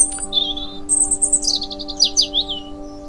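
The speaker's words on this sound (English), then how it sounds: "the little bird flies straight inside to her nest, tweeting her song" A storybook sound effect of a little bird tweeting its song: a run of bright, rapid chirps and trills over a steady low electronic hum.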